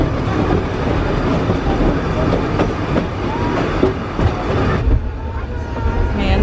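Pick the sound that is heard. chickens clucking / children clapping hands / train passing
train passing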